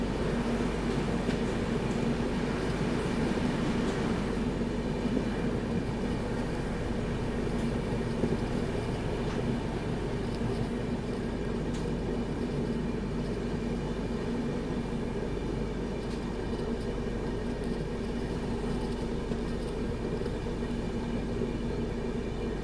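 Steady, loud rumble and rattle of the West Bengal Sampark Kranti express (train 12329) running through a railway station without stopping, heard from on board as continuous wheel-and-carriage noise that barely changes for the whole stretch, with no talking.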